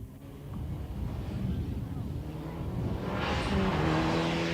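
A Mitsubishi Galant rally car on a tarmac stage of the 1994 Jordan Rally: a steady low engine drone with wind rush, swelling into a louder broadband roar near the end as the car seems to approach.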